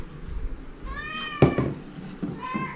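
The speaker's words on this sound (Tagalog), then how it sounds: "Ang alaga namin pusa na may anak, ayan, nanghihingi na ng pagkain." Pet cat, a mother with kittens, meowing repeatedly for food at close range, several drawn-out calls with a brief thump midway and light household noise around them.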